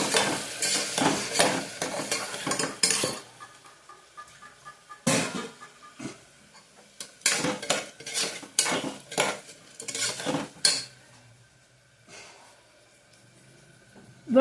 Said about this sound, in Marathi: चांगलं फ्राय करून घेऊया.